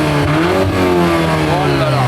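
A car's 2-litre four-cylinder engine, switched into sport mode, revs close by with a loud, rising and falling tone and strong harmonic whine, filling the whole short stretch.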